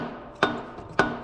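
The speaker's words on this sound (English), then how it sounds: "Got my plastic hammer." A plastic hammer strikes a water pump on a Case 305 tractor twice, sharp close knocks about half a second apart.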